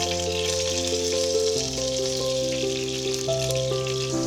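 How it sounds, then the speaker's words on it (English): Pork and celery dumplings pan-frying in oil, a steady bright sizzle running throughout beneath prominent background music, with no talk. "Pan fry the dumplings first."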